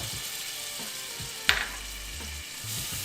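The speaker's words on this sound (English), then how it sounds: "once you see your butter melting, go ahead and add your all-purpose flour" Butter sizzles in a hot pan as all-purpose flour goes in, a steady close frying hiss broken by one sharp scrape or clink of a utensil, with no voices.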